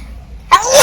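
A single sharp sneeze bursts out after a half-second of near quiet, loud and close, with a breathy trailing tail.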